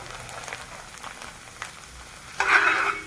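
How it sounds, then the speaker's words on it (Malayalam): Cornflakes deep frying in hot oil for a homemade beef mixture snack, a soft low crackle for the first seconds that swells into a louder bubbling sizzle near the end, with no talking. "അടുത്തായിട്ട് ഞാൻ ഫ്രൈ ചെയ്യണത് കോൺഫ്ലെക്സ് ആണ്"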